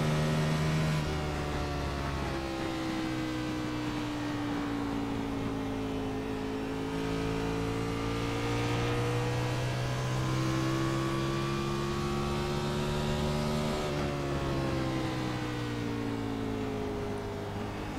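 A race car circles the 1-mile Phoenix speedway in a racing game, its engine droning loud and steady throughout with rising and falling pitch as it accelerates through the corners, with no talk.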